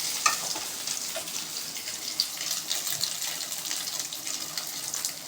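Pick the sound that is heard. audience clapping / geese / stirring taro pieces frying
stirring taro pieces frying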